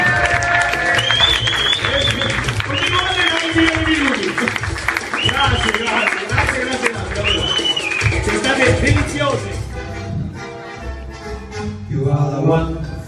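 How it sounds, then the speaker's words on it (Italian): A crowd at a birthday party applauds and cheers loudly, with clapping and voices mixed together, fading toward the end as music takes over. "Un applauso, ragazzi!"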